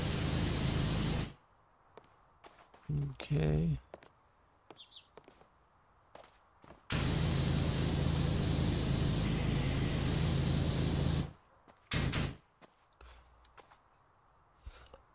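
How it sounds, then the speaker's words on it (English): A pressure washer with an extra long extension sprays in the PowerWash Simulator video game, a loud hissing rush in several bursts, one long and sustained, with quiet gaps between and a brief spoken word. "take the extra long extension and spray it over here"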